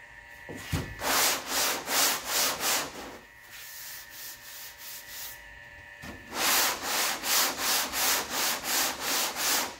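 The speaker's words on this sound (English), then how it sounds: "I'm kind of just floating the sander over it." Sanding block worked back and forth over the trunk lid of a 1969 Sport Satellite: steady rhythmic rasping strokes, close and loud, with a brief softer stretch between two runs of even strokes.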